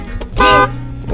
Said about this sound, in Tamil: என்னடா ஹார்ன் அடிக்கணும். சரி அடி.